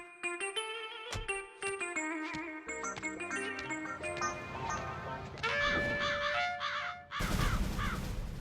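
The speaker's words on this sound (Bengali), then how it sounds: "কাও কাও কাও কাও" Cartoon crows caw again and again in quick bursts, mixed with bright music and stylised sound effects that end in a burst of noise.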